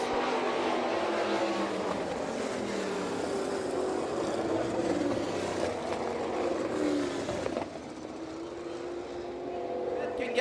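Sprint race cars at a dirt track in Hartford, Michigan, a dense sustained engine roar with pitch sweeps as cars pass, heard at a distance beneath a public-address announcer's voice.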